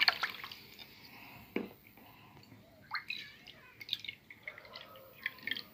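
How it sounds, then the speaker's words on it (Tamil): Water trickles and splashes into a pan holding a cup of sugar, with faint intermittent drips and clinks of kitchen handling, quiet and close. "தண்ணி ஊற்றிக்கிறேன்."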